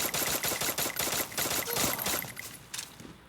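Rapid bursts of gunfire in the Free Fire video game, dense overlapping shots cracking in quick succession for about three seconds before thinning out, with no talking.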